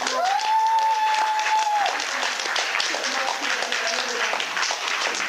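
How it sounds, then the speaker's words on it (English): A crowd at a wrestling awards ceremony applauds loudly and steadily, with cheering voices and a brief whistle-like tone rising over the dense clapping. "Give me an applause for charisma!"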